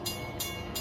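Long Island Rail Road train approaching the Pond Road grade crossing on the Ronkonkoma Line, a steady rumble punctuated by three evenly spaced bright bursts that may be crossing bells or horn blasts, heard from trackside with no voices.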